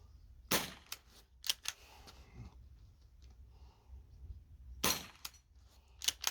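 A Swiss Arms airsoft pistol of about 3.5 joules fires at a rotating metal plinking target, giving a few sharp, close pops with metallic clinks, spaced irregularly over quiet background.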